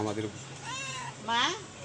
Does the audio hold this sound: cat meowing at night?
yes